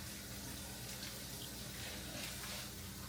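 A kitchen faucet runs steadily into a sink as baby corn is rinsed, a soft continuous rush of water, fairly quiet and unbroken, with no voices.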